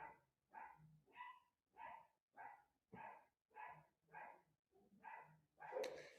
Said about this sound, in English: Let me just wait for these dogs to stop barking.